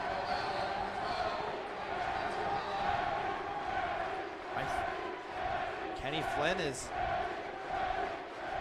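Home crowd at a men's college basketball game, Salve Regina against Western New England, roaring and screaming a player's name in a sustained wash, with announcers talking over it and a brief sharper swell near the end.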